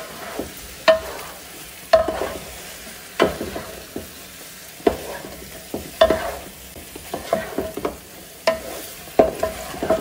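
Chicken pieces turned through spice paste in a pot, producing a steady series of crisp utensil knocks and scrapes roughly every second over a soft sizzling hiss, close-up and clear, without any talk.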